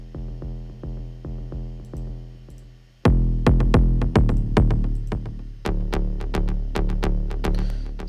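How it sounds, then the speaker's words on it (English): Layered synth bass from the Output Substance plugin, combining a click, a body and a chorused wide top end, plays repeated pulsing notes. A sparse quieter pattern gives way to louder, denser hits partway through, with no voice. "this is kind of the click, this is the body of the bass, and this is pretty much the chorusy, wider sounding top end of the sound"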